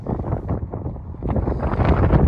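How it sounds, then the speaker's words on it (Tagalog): Strong wind buffets the microphone with a loud, rumbling roar that grows heavier toward the end. "Ang lakas ng hangin."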